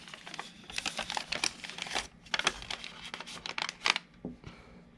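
Paper crinkles and crackles in close, irregular bursts as a sheet is folded and creased into an origami bull, with sharp rustles and short pauses between handling sounds, no voices.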